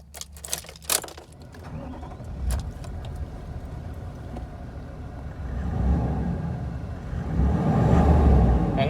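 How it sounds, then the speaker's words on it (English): A GXL dual cab ute with an upgraded exhaust cranks and starts after a few sharp clicks, then settles into a steady engine idle that swells slightly louder toward the end, heard close up with no talking. "I'm going to start it up now, Frans, so bear with me."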